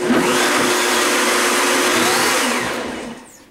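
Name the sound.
blender blending oatmeal protein bar mixture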